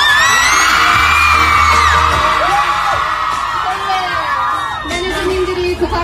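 A crowd of fans at a KCON 2018 New York K-pop event screams and cheers loudly, high voices whooping and shrieking together, with a thump at the start.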